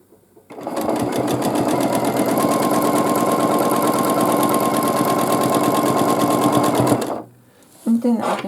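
A domestic sewing machine quilts a small baby quilt in one continuous fast needle run of about six seconds, loud and close, before stopping abruptly, with a brief voice following.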